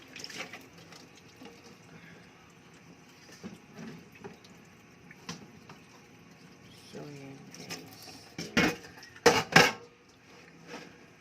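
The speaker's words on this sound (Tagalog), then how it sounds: "Kaya, nagugas talaga ako ng pinggan." Running water and scattered clinks of dishes and cutlery, with a few sharper clatters near the end, while a person talks intermittently.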